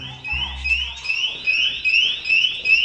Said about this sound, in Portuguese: Ó o alarme, ó o alarme.